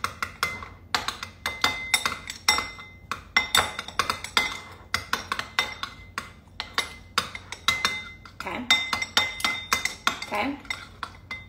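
A utensil clinks and scrapes rhythmically against a bowl as food with balsamic is mixed, sharp repeated taps close up, with a couple of brief spoken words between strokes.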